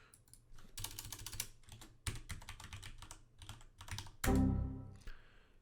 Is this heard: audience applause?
no